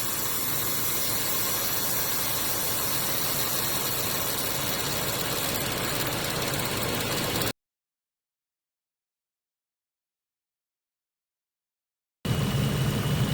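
A Subaru Forester engine idles with the AC compressor clutch engaged, giving a steady, close hum with a hissy whir, then cutting to silence for several seconds before resuming.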